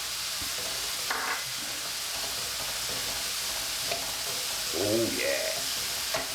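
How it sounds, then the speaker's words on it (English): Garlic fries in a pan with a steady sizzle close by, while stirring scrapes through it and a voice briefly speaks. "Now I'm getting my garlic in."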